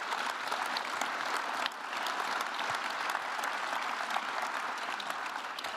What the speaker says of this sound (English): I would really like to ask you to give your round of applause to our panelists